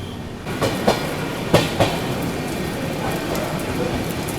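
The Guwahati to New Delhi Rajdhani Express rushing along the tracks near Ghaziabad Junction with a steady roar and a few sharp clacks of wheels over rail joints.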